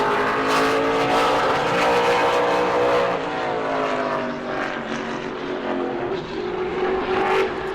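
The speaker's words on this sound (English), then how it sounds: "And Nick White, car number 22, coming down to the checkers" A super late model race car screams past at full speed during qualifying at New Smyrna, its loud engine note rising and falling as it passes, with no voices.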